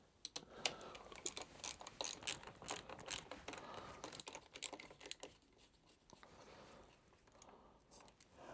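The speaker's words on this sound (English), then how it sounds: "there's a bolt, but there's a locking nut underneath which we need to undo first." Metal tools working the locking nut under the bolt on a KTM motorcycle brake lever make rapid close ratchet clicks and small metallic taps, fairly quiet and repeated in bursts.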